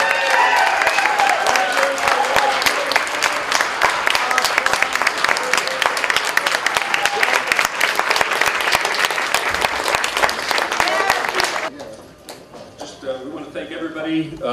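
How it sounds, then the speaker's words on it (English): An audience claps for the first, second and third place winners of the Poetry Out Loud 2011 recitation contest, loud sustained applause that stops abruptly near the end and gives way to quieter room sound. "Have another round of applause for first, second, and third place winners for Poetry Out Loud 2011."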